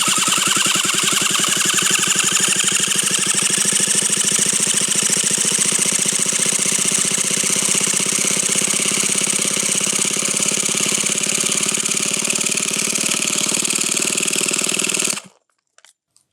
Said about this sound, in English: I'm going to prime the engine and let's see if we can make some noise.